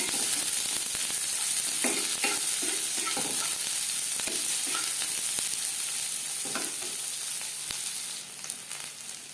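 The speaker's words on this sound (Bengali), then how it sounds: "ভেজে নেওয়ার পর দিয়ে দেবো পেঁয়াজ কুচি এখানে আমি দুটো পেঁয়াজ কুচি করে অ্যাড করেছি" Chopped onions, two of them, fry in a pan for a homemade dal fry, giving a steady close sizzle with intermittent stirring scrapes throughout, easing slightly near the end.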